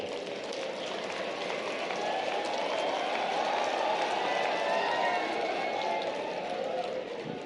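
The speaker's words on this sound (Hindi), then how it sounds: "बीएमएस वाले भी जोरदार ताली आपके लिए भी बजाओ।" Loud, sustained applause from a large audience at a public health services conference in Bhopal, a dense wash of clapping that swells and holds steady for several seconds.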